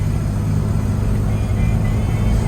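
A 1965 Ford Mustang drives past with a loud, steady low engine rumble and road noise that stays close and constant throughout.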